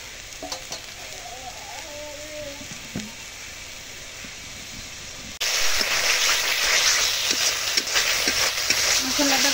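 Spices sizzling and frying in hot oil in a pan for a Bengali tengra fish curry with small potatoes, a steady close crackle that becomes louder and denser partway through, with occasional stirring.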